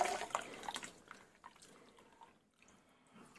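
Wet, freshly washed saag, spinach and fennel greens being tipped into a pressure cooker give soft, irregular wet rustles and light drips, loudest at the start and fading to faint splatters, with no talking.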